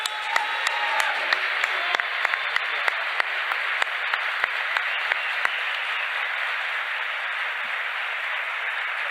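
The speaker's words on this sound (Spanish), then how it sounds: "otro aplauso para Agustín" Sustained applause from a large audience at a talk featuring Agustín Laje, Javier Milei and Nicolás Márquez, with dense clapping, a few sharp individual claps early on and a steady roar that holds throughout.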